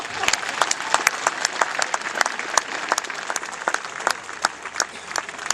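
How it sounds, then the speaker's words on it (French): Live comedy-show audience applauding a performer named Dominique, steady dense clapping throughout with a few sharper individual claps standing out, no talk over it. "On peut applaudir Dominique"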